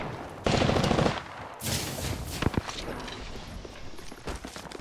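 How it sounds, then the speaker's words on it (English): Gunfire in the video game Apex Legends, a loud rapid automatic burst followed by a second volley and scattered sharp shots, with a busy rumbling game backdrop and no talking. "Getting shot at"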